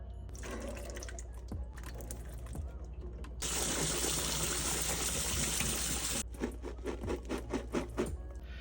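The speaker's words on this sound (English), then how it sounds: "Next, we're gonna drain 2 cans of beans." Liquid from two cans of beans pours and splashes into a sink or strainer in a kitchen, a steady close gush of about three seconds between softer drips and clatter, with no talking.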